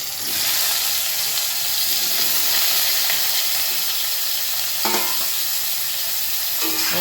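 Amla pieces frying in hot mustard oil in a kadai give a steady, close, bright sizzle that runs throughout, with a few brief utensil clinks near the end.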